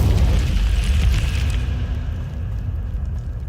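An Incendio fire spell bursts in Hogwarts Legacy on Xbox Series X, a loud, full explosive boom that opens hard and then rolls into a long, sustained fiery roar, with no talking.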